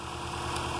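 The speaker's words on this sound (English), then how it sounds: "So you can hear the 1000cc fuel injectors." A modified Subaru engine fitted with ID1000 1000cc fuel injectors and a DW65C fuel pump idles steadily at close range, a continuous even drone with no voices.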